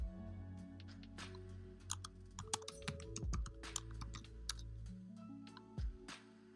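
A password being typed on a computer keyboard, a quick irregular run of close, crisp key clicks over a low electronic hum, without speech.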